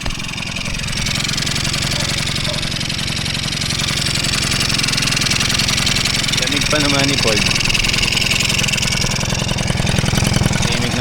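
A small Honda Dio scooter engine idles steadily and evenly throughout, with a person talking briefly partway through.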